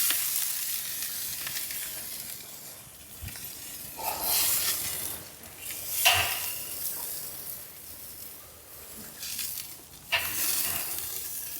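Steaks sizzle loudly on a grate in a drum smoker, the close hiss swelling in bursts each time a piece is flipped, with quieter crackling between turns and no talk.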